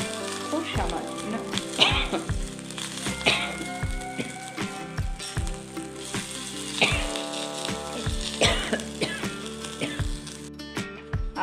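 Grated ginger and green chilli fry in a very small amount of oil, giving a steady, soft sizzle with a few crackles. Background music with regular thumping beats plays over it.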